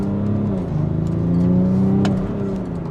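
A diesel BMW F15 X5 M50d with a three-litre engine and eight-speed ZF automatic accelerates hard, its loud, steady engine drone rising and shifting pitch from inside the cabin, with no talk over it.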